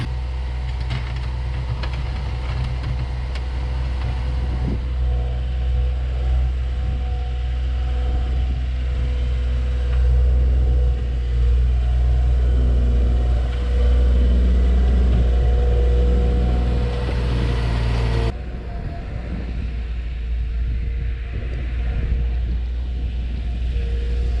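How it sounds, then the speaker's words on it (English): A Bobcat engine idles after a cold start at about -2 °C, a steady close, loud low rumble that holds without much change, then shifts a little in tone near the end. No one talks. "The Bobcat was actually impressively easy to start, even it's cold out."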